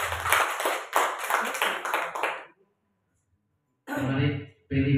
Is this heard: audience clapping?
yes